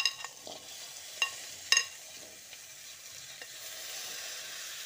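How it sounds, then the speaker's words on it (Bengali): Spring onions stir-fried with potato and cauliflower give a soft, steady sizzle, broken by a few sharp scraping clinks of a spatula in the pan near the start. "এবার পেঁয়াজকলিগুলোকেও এর সঙ্গে ভালো করে মিশিয়ে নিচ্ছি"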